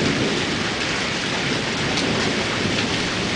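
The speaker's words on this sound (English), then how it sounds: "And It's besides, raining and hailing. Is it? We're not hailing, but thundering." A heavy thunderstorm roars with steady, dense rain and rumbling thunder, loud and continuous throughout with no voices.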